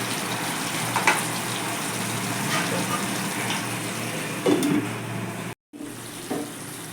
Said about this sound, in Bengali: প্রথমে আমি একটু আলুটা দিয়ে কষে নেবো